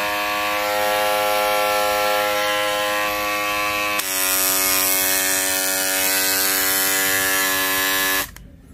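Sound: electric foil shaver running

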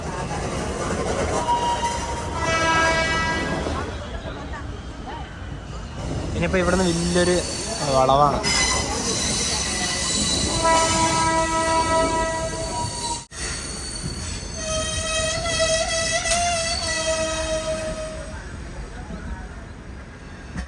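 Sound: Tiruchirappalli–Howrah Express train with horn

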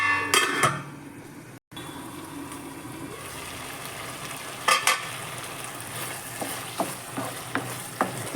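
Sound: eggplant masala bubbling in oil

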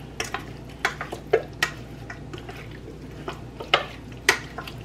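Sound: mixing chicken wings to coat them evenly

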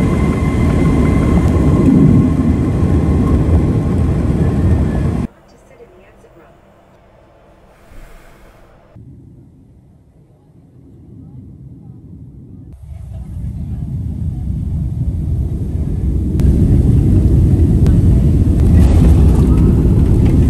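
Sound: airplane on the ground

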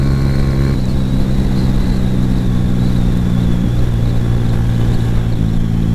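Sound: Suzuki GS 150 motorcycle engine riding at speed

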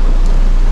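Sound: heavy rain

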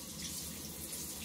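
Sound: shower water flowing from Atmor In Line 5 kW tankless water heater

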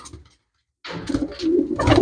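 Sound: pigeon cooing

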